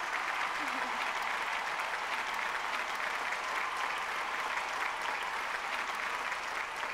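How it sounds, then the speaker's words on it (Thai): An audience at an Amway diamond-level honours ceremony applauds continuously, an even, steady wash of clapping throughout with no talk over it. "รบกวนยืนขึ้นรับเสียงปรบมือจากเราหน่อยครับ"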